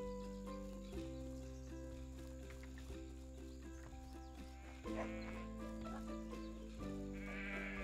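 Sheep bleat in the farming game Everdream Valley, short calls rising over a steady layered music bed, with livestock hoofbeat-like clip-clop mixed in throughout.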